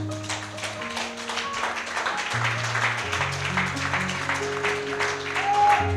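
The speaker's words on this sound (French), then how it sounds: "est-ce qu'on peut acclamer notre Dieu?" A church congregation applauds God during a French-language sermon, dense clapping and cheering over sustained organ or keyboard chords, loud and continuous, rising slightly toward the end.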